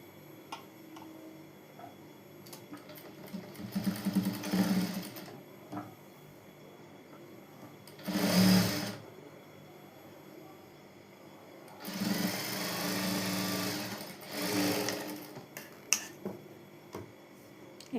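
A sewing machine stitches fabric in several short runs separated by quiet gaps, each burst a close, rattling whir with ticking mechanical clicks.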